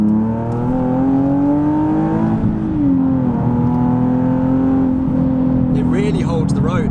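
Loud Nissan 370Z Nismo engine revving from inside the car, a rough, raw drone that climbs, drops and swells again, with a voice speaking briefly near the end.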